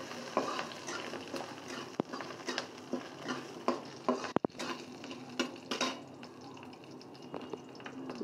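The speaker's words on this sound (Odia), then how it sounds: "ଅଦା ଖଣ୍ଡେ ରସୁଣ 8-10 କିଲୋ, ତାକୁ ମଧ୍ୟ ଭାଜିବା।" Ginger and garlic fry in a pan for a kancha kadali aloo bara curry, with a soft ongoing sizzle, light spattering and intermittent stirring clatters and clicks, heard close with no voices.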